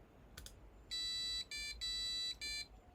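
A passive buzzer driven by a Raspberry Pi Pico WH plays a quick run of electronic tones, four sustained buzzy notes of differing pitch in sequence after a couple of brief clicks, close and alone with no talking.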